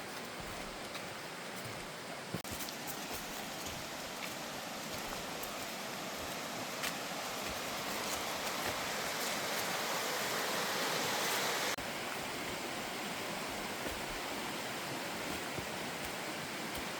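Waterfall water in the Jocassee Gorges, South Carolina, heard as a loud, constant roar of falling water that swells slightly partway through and continues unbroken.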